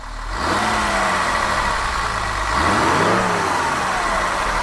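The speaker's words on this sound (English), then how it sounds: "Go ahead and start it up and we'll hear it run." A 1966 Mercedes 230SL engine revs up loudly, rising in pitch, eases back, then revs again, close and alone with no talking.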